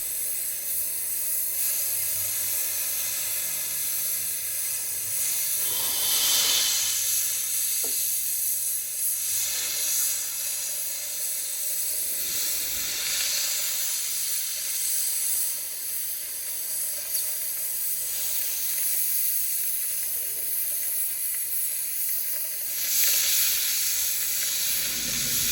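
Steady torch or plasma cutting through roughly half-inch steel on a forklift chassis, a continuous close hiss and sizzle with occasional brighter flares, running without speech.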